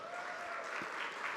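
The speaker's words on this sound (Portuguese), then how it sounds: "Eu vou pedir uma salva de palmas aqui para o da Fara" Audience applause at a regional APM gathering in São José do Rio Preto, Brazil: a brief, steady burst of many hands clapping that fills the room at an even level from start to finish.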